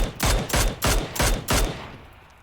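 Mini rifle fire in PUBG, five loud, evenly spaced shots in quick succession, each with a booming tail, followed by a fading echo.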